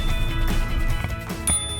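A Trigger Bell bicycle bell gives a short bright ring near the end, with a sustained high tone, heard over a busy background of music or noise.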